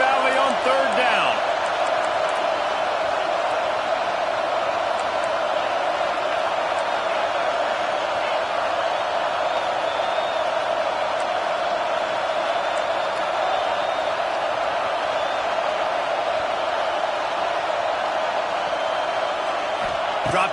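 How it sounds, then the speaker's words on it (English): A big football stadium crowd in Happy Valley roars continuously on third down at a Penn State game against Georgia, a loud, dense, unbroken wall of noise. "Here comes the noise from this big crowd in Happy Valley on third down."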